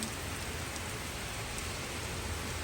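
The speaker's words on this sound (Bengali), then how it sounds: "রহমতের বৃষ্টি আসতেছে" Rain falls in Italy as a dense, steady close hiss of drops with no pauses and no voices.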